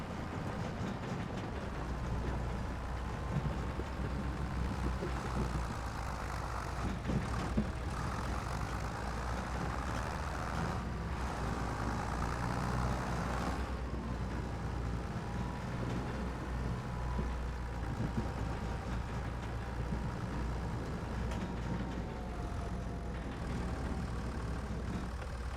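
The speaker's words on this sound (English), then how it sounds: "Boy, this tractor's having a hard time with this load." A tractor engine in the Farming Simulator 25 video game strains under a heavy load, a low, rumbling drone that holds steady and fairly quiet for the whole stretch, with no talking over it.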